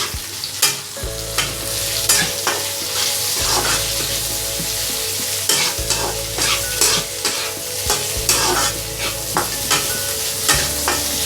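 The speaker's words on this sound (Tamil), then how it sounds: "இப்போ வந்து நம்ம கட் பண்ணி வச்சுருக்க இந்த சின்ன வெங்காயத்தை இதில் சேர்த்துடலாம்." Small onions sauté in hot oil with chillies and garlic, a steady close sizzle broken by repeated scraping stirs of a utensil in the pan.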